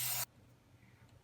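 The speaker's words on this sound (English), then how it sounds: "Now I'm going to spray an 8-inch pan I'm going to use." Cooking spray hisses onto an 8-inch baking pan in one short, sharp burst, close by, followed by near silence.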